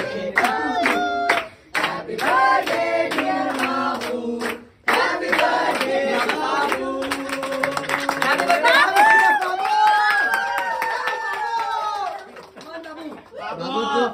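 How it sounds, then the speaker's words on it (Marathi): A small group claps hands in scattered bursts at home, mixed with lively chatter and laughing voices throughout. "टाळ्या वाजवायच्या का नाही?"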